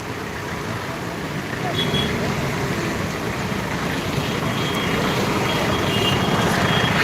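A machine clearing garbage from a flooded drain during heavy rain, its reversing alarm beeping under a steady engine rumble and rushing water, with people talking in the background.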